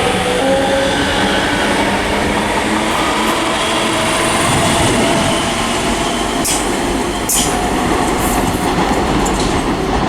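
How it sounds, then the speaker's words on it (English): A ScotRail train runs through Haymarket station in Edinburgh with a steady loud rumble and rolling wheel noise. Brief clicks from the rails come in near the end, and no one speaks. "Departing is the 1605 ScotRail service to Glasgow Queen Street."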